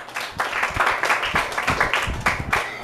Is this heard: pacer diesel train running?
no